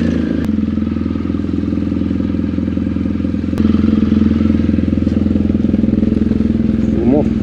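An enduro motorcycle engine starts and rumbles steadily near the microphone in a village square, with a brief rise in revs toward the end as the bike rides off, with no talk over it.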